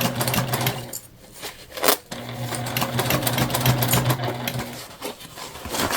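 A sewing machine stitches a mini bag, the Aida Bag, its motor running in a steady, close hum that stops briefly near the start and then resumes for a long continuous run.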